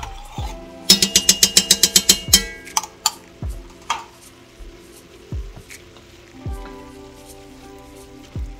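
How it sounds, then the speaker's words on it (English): Tomato paste from a six-ounce can being stirred into a pot for chicken and sausage jambalaya, a quick run of wet scraping, clacking strokes followed by slower, scattered stirs and soft bubbling. "Give that a nice stir."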